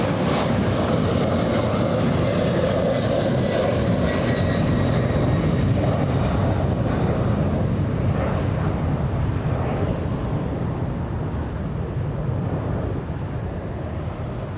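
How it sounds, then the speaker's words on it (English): A close-up airplane takeoff at LAX airport: a loud, continuous roar of jet engines at full thrust that holds steady and then slowly eases as the aircraft climbs away, with no voices. "Whoa, look at this. Close-up takeoff."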